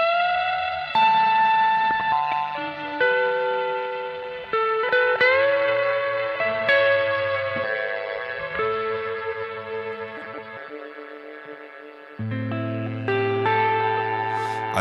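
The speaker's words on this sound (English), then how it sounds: "I'm just going to spice up the reverb" Electric guitar run through a BOSS GT-1000 with a heavier reverb setting in a wet/dry rig: a continuous phrase of picked notes and chords blurring into long washy tails, steady and clear with no voices.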